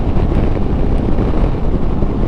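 Steady, loud wind buffeting over a rider's helmet on a 2021 VOGE 500DS motorcycle cruising at around 70 mph, a constant rushing roar with no talk.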